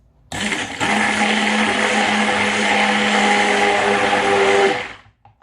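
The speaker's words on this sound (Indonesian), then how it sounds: "Aduk dengan hand mix" An electric hand mixer whirs steadily for about four seconds as it stirs a soap mixture for homemade organic children's soap, starting and stopping abruptly with a loud, constant motor hum.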